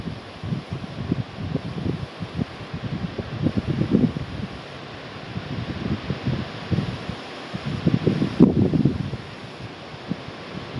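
Wind gusting through a valley, a steady broadband rush with rising and falling surges and buffeting bursts against the microphone, strongest near the middle and toward the end, with no voices.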